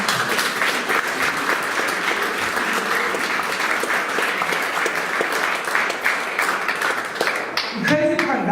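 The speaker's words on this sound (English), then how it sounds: "Give me a round of applause." A congregation at a final church service gives steady, dense applause with some crisp individual claps standing out, loud and sustained; a voice starts speaking as it winds down at the end.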